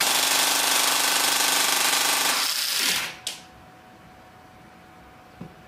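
A T238 brushless motor screams at high RPM, a loud dense buzzing whine that holds steady for almost three seconds, then abruptly cuts out with a short clunk, leaving quiet with one faint tap near the end.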